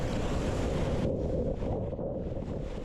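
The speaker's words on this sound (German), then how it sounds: "Vorne ist schon die nächste Welle aus dem Set." Ocean waves break and wash near a cliff at a surf spot at low tide, with backwash, a steady roaring rush buffeted by heavy wind noise on the microphone, no voices.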